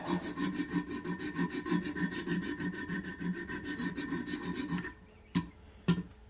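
A knife blade drawn across Wicked Edge Pro-Pack III sharpening stones, a rhythmic rasping of rapid repeated strokes that stops near the end, followed by two sharp isolated scrapes.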